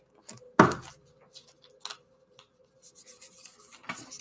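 Heart-shaped tarot cards are handled and shuffled close up: a sharp riffling slap, then scattered soft rubs and light taps, then a quicker run of papery shuffling near the end.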